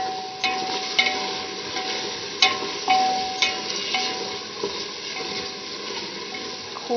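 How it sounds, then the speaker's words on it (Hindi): Pumpkin pieces stir-fried in hot oil for a chana dal and pumpkin curry, giving a steady close sizzle broken by several sharp clanks of a spoon scraping the pan, with no talking. "आप कद्दू को बहुत अच्छे तरीके से भूनिएगा।"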